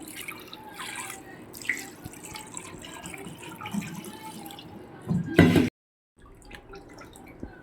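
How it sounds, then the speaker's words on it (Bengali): Fresh chhana curds for homemade paneer rinsed under cold running water, soft trickling and dripping with a brief louder gush of water before a short silence, no voices. "এবার এটাকে আমি জল দিয়ে ধুবো ঠান্ডা জলে ধুবো আরও ধুচ্ছি আমি"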